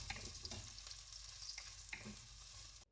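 Green chillies and shallots stirred in a hot pan for a fish mulak curry, a soft continuous sizzle broken by a few light utensil clicks and scrapes, quiet and close, then abruptly cut off.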